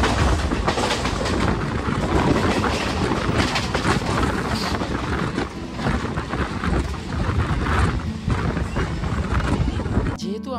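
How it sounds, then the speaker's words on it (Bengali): A Katwa local train pulls out from platform 2 at Howrah station, making a loud, continuous rumble and rattle close by, with voices partly audible under the noise. "হাওড়া স্টেশনের 2 নম্বর প্ল্যাটফর্ম থেকে ছেড়ে চলে যাচ্ছে কাটোয়া লোকাল।"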